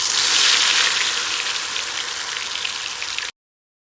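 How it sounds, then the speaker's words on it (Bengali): Malpua batter frying in hot oil with ghee, a loud, steady bright sizzle and crackle that runs unbroken, then cuts off abruptly. "এবার গরম তেলের ভিতর আমি ব্যাটারটা দিয়ে দেব।"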